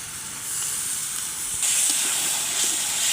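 Koi fish dropped into a bubbling spice masala in a pan for a traditional Bengali koi fish curry with taro, giving a steady hiss and sizzle that swells louder partway through, with no talking.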